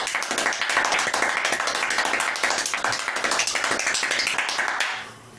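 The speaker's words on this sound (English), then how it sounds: "Talented not only at clapping, but at making these faces while he does it." Fast, continuous hand clapping from one performer, steady and close for about five seconds, then stopping abruptly.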